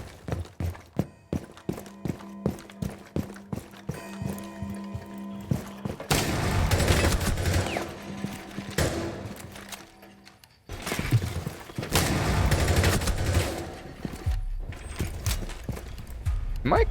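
Gunfire in a competitive shooter video game: single sharp shots ticking steadily at first, then denser loud volleys and sustained bursts, a brief lull, then another heavy stretch of firing.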